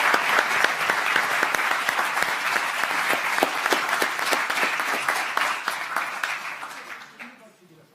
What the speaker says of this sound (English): please join me again in one last round of applause for our guests